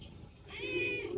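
A cat gives a single faint, drawn-out meow partway through, heard over a quiet background.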